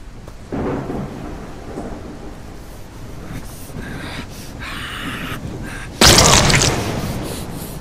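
Thunderstorm in the video game Pneumata: steady rain hiss with rolling rumbles of thunder, capped by a sharp, loud thunderclap near the end that slowly fades.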